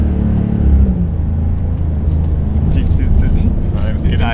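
Porsche 911 Sport Classic engine revs and pulls away on an icy mountain road, a loud steady low rumble throughout, with people talking over it.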